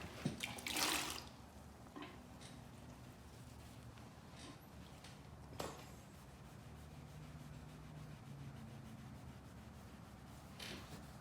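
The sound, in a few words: wet sanding car paint scuffs with soapy water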